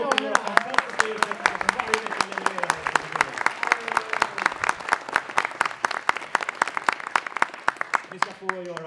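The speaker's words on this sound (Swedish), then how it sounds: "med stora applåder igen" Close, sharp hand claps from a studio audience at a live radio concert ring out in a quick, uneven rhythm throughout, with people talking underneath the clapping.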